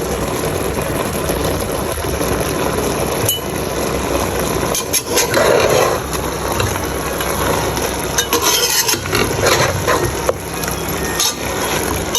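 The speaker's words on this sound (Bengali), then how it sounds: "পেঁয়াজটার সাথে ভালো করে অ্যাড করে নিয়েছি এখন একটু ভাজা ভাজা করে নিব" Onions fry in a pan on an electric stove with a steady, close sizzle, broken by scraping stirs and a few light clinks throughout, with no talking.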